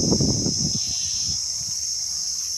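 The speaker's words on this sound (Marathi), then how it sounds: "सगळ्या सगळ्या बकऱ्या माझ्याकडे बघताय" Goats bleating in a pen, several animal calls bunched close together in the first second and a half, then quieter, over a steady high-pitched background hiss.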